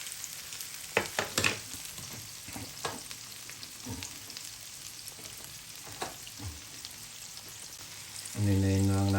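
Eggs frying in a pan for a Sunday breakfast, a steady soft sizzle with scattered crackles and pops throughout, ending with a louder low tonal hum in the last second.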